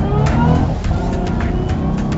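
A Mustang fitted with an 8.8 rear end accelerates on a test drive, its engine giving a loud, continuous rumbling roar with a slight rising strain throughout.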